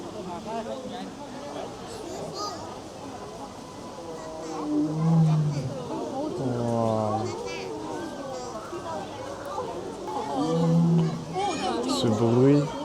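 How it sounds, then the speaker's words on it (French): A white tiger at Shanghai zoo gives deep, rumbling roars and growls, several bursts spread through the clip, heard beneath people talking nearby. "Ce bruit. Le tigre"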